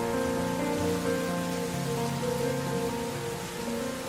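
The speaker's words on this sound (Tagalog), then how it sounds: "Ang sarap panoorin ng ulan," Steady rain falling while the sun shines, an even, continuous patter at moderate loudness under faint sustained tones, with no one speaking.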